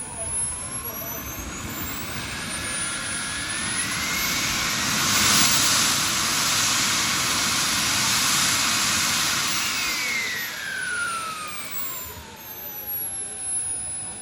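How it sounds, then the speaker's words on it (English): Miniature turbine jet engine of a radio-controlled model airplane at an RC park, a loud continuous whine and roar with rising and falling pitch sweeps as it spools and passes, steady and close throughout. "That is an actual jet engine."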